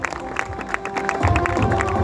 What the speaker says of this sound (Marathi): जोरदार टाळे होते